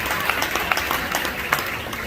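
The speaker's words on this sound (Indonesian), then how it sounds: "Berikan tepuk tangan yang meriah buat Tuhan." A church congregation applauds during an Easter sermon, a dense wash of many hands clapping at close range, with no talking.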